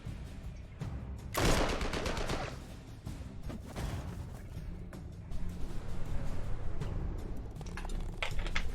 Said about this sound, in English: it's going to involve machine guns